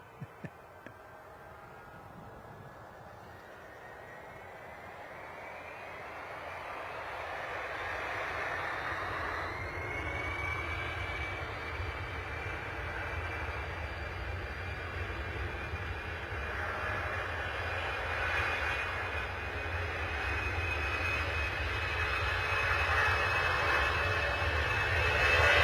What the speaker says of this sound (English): Reach 4536, wind 130 knots, runway 22, clear for takeoff.